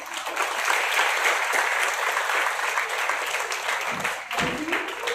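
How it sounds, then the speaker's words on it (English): Sustained applause from an audience at a national moot court competition, steady and full throughout, with a few louder claps near the end. "they deserve the huge clapping"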